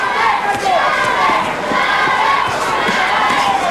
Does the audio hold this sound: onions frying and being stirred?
no